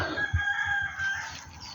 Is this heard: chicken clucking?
yes